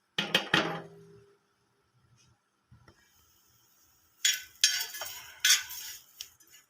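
Spice masala with grated coconut and onion roasting in a pan for aloo bonda rassa, heard as intermittent metal spoon scrapes and clinks against the pan, in bursts separated by near silence.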